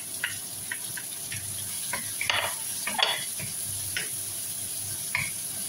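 Pork meat for pakbet sizzles steadily in a frying pan, with a constant bright hiss broken by intermittent stirring scrapes and clinks of the utensil against the pan, close and moderately quiet.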